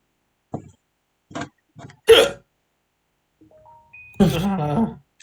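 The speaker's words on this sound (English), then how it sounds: "I've got hiccups." Several short, sharp hiccups at uneven intervals, close and fairly loud in a quiet room, followed by a longer voiced burst near the end.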